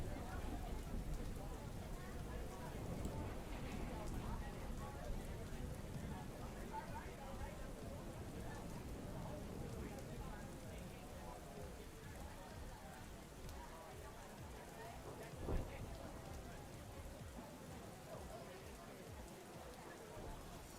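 Rain falls steadily in a soft, faint hiss with scattered droplet patter, a continuous wash of noise with one brief thump partway through.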